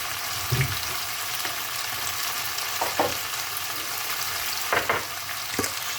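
Diced meat and potatoes sauté in a pan with a steady, close sizzle. A spoon scrapes and clinks against the pan now and then as the food is stirred, and no one speaks.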